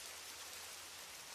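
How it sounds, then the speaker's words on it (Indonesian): Cold rain falls at night as a horror-style sound effect: a soft, even hiss of steady downpour, faint and unbroken, with no voices. "Butiran air hujan yang dingin menampar wajahku, membasahi pakaianku"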